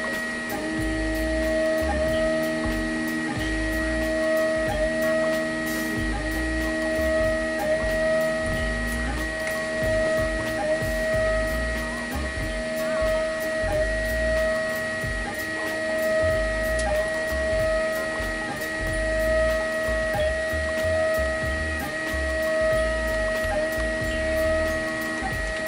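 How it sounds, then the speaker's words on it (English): A da Vinci 2.0 3D printer running a print job, with a steady mechanical hum and rapid stepper-motor whirring and buzzing that shifts pitch as the head moves, continuous and close. "Looks like it's starting to print. I believe it's printing the white."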